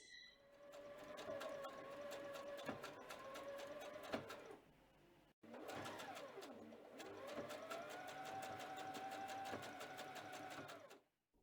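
A sewing machine with a zigzag foot sews a blind hem stitch on scrap fabric, running steadily and whirring close up in two long bursts separated by a short pause, with no talking.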